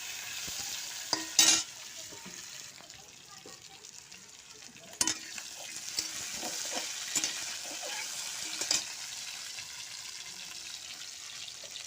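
Potatoes frying in a pan until reddish, a soft continuous sizzle with scattered stirring scrapes and clinks, close but fairly quiet.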